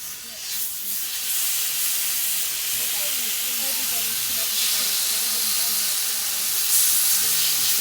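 Pork bellies sizzle steadily in a hot pan at a barbecue, a loud continuous hiss and crackle that fills the whole clip without talk.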